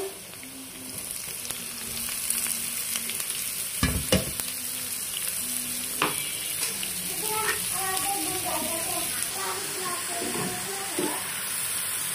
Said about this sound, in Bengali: এই যে গাজর দিয়ে বাঁধাকপি ভাজি করা শেষ